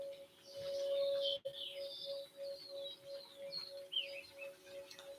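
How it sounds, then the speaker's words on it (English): Birdsong outdoors near water: a chorus of chirps and warbling phrases, moderately faint and continuous, over a steady tonal hum and light background ambience, with no talking. "As we listen to the birds and the water"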